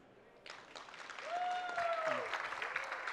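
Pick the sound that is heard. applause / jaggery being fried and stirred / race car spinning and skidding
applause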